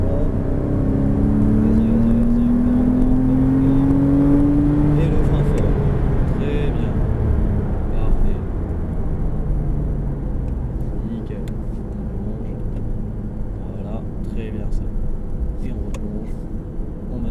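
A car engine roars loudly and climbs in pitch as it accelerates during a driving course, then holds a steady drone, with a person talking over it.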